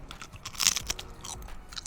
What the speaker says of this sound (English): Look at that crunch.